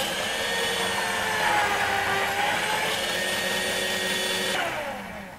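Kitchen blender running loud and steady with a high whirring motor whine for several seconds, then abruptly cutting off and winding down.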